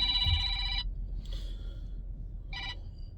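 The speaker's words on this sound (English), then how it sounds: "I got somebody calling me as we speak, blowing my phone up to do a consultation." A phone rings with an incoming call, bursts of an electronic ringing tone repeating with short gaps, fairly close over a low background rumble.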